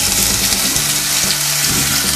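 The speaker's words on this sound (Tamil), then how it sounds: "இதை கொஞ்ச நேரம் நல்லா செவக்க வாட்டிக்கோங்க" Shallots and garlic fry in hot sesame oil with mustard seeds, urad dal and peppercorns, giving a steady, close sizzle with a faint watery crackle throughout and no voices.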